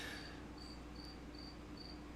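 Cricket chirping indoors at night, a steady series of short, evenly spaced high-pitched trills repeating alone over a faint background hum.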